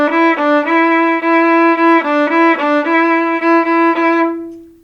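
Solo viola plays the opening phrase of a song in a straight, unswung rhythm, a run of evenly spaced bowed notes on a steady pitch, close and clear, ending on a held note that fades out.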